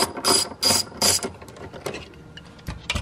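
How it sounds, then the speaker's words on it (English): Socket ratchet loosening an M8 triple-square bolt on a VW MK7 Golf R during a rear brace install, three loud rapid clicking bursts followed by slower scattered ratchet clicks and light metal handling. "find the proper socket, throw it on that, get it off"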